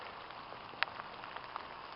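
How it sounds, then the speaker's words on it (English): Rain falls steadily in spring woodland, a soft continuous patter with a few sharper drips striking nearby surfaces, fairly quiet and with no voices. "Pretty rainy."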